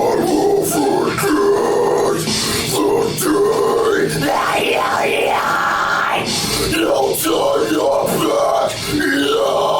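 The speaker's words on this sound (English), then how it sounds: "he is doing a vocal cover of a deathcore song." A man gives a deathcore vocal cover, with guttural growls and harsh yelled screams over loud, dense band backing that runs without a break.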